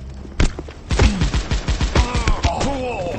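Jack Frost gun firing in the mobile shooter Guns of Boom, a rapid run of punchy shots in quick succession with booming impacts and ringing tones toward the end, loud and close.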